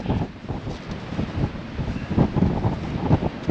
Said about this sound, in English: I can't tell you how windy it.